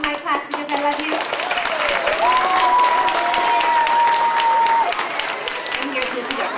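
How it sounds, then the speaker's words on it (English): A school assembly audience claps steadily and loudly throughout, a dense wash of hands with scattered cheers, while a voice talks over the applause. "One more round of applause for my class because I love you."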